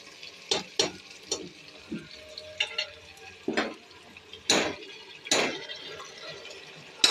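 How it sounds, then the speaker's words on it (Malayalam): Marinated chicken tipped into a pan of softened frying tomatoes for Ambur chicken biryani, with a series of soft thuds, scrapes and light clinks spread across the moment over a faint background sizzle. "ഇനി നമ്മൾ മാരിനേറ്റ് ചെയ്ത് വെക്കുന്ന ചിക്കൻ ഇതിലോട്ട് ഇട്ട് കൊടുക്കാം."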